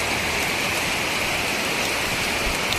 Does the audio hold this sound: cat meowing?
no